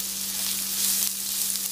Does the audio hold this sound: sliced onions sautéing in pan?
yes